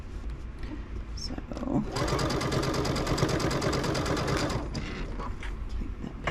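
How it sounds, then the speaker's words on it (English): A sewing machine stitches down the binding on a finished baby quilt, its rapid, even needle chatter starting abruptly about two seconds in, running steadily and loud for several seconds, then stopping. "I am almost to the end of where I need to sew for my binding"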